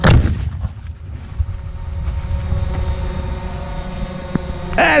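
A Civil War-era 19th century cannon fires a single loud, booming shot at the very start, followed by a long rumbling echo that slowly decays over several seconds, with a faint second thump near the end.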